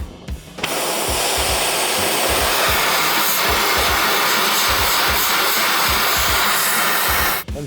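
A torch roars steadily up close as it heats a big stuck nut at the bottom of the hitch on a John Deere 6910 tractor, a continuous loud hiss that starts abruptly and cuts off near the end.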